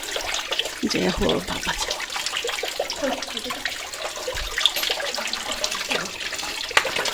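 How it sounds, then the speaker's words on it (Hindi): Water trickles and drips inside a cave shrine, with a steady wet trickle and scattered splashes, while someone speaks briefly over it. "यहाँ से जो पानी है वो टपक रहा है"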